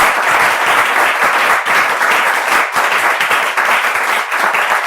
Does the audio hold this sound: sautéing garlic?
no